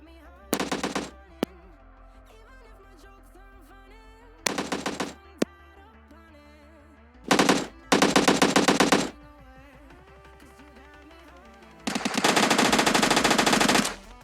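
AKM and machine gun fire in the mobile game PUBG Mobile Lite: several loud bursts of automatic fire, a few short bursts early on, then longer sustained rattling volleys, with no talk.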